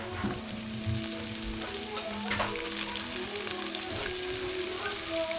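Margarine melts and is stirred in a hot pan while chicken kabsa is being cooked, giving a continuous loud crackling sizzle with scraping stirs, and faint tonal sounds behind it.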